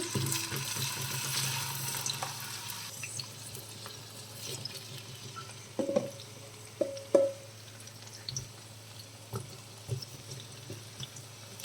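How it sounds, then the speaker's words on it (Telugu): Thick-cut raw banana pieces deep frying in oil make a soft, steady bubbling sizzle. Occasional clacks and scrapes of a utensil break in partway through. "ఆయిల్లో డీప్ ఫ్రై చేసుకుంటాను"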